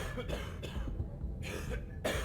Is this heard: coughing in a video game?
yes